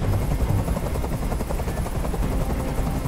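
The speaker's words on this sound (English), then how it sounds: "I can't stand that noise anymore! Tell that helicopter to get out of here!" Helicopter hovering overhead in Detroit: Become Human, a steady loud rotor chop and engine drone throughout with no speech.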